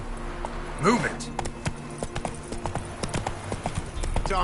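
Horse hooves clip-clop steadily in The Witcher, a brisk, close rhythm of hoof strikes with a brief neigh-like call near the start over game ambience.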